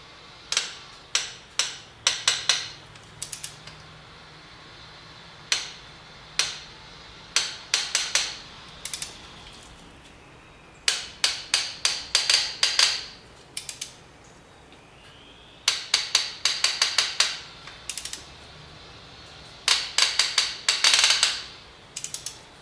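Bursts of rapid ratcheting clicks from a torque wrench set to 33 foot-pounds while tightening a spark plug on a Ford 4.6L 3V engine, repeated in several close, loud runs with short pauses between them.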